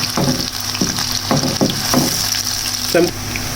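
Onions sizzling in hot oil for a pea pilaf, a steady close hiss with occasional louder crackles and stirring scrapes, and no one speaking.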